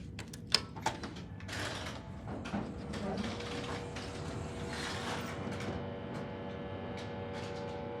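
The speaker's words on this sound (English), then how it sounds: "And we got an elevator." A Schindler elevator at a university business building runs with clunking door and mechanism sounds, a couple of sharp clicks early on, then a steady mechanical hum and faint whirring, with some talk underneath.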